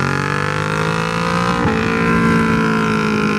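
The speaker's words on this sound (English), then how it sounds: "Let's see the acceleration in third gear." A 2018 Kawasaki Ninja 650 accelerates hard in third gear, its engine note loud and close, rising steadily in pitch with a smooth continuous roar.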